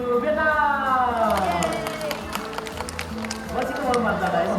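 Audience at a bird show at VinWonders Nha Trang, Vietnam, with a continuous wash of crowd noise and clapping under an announcer's amplified voice, steady throughout.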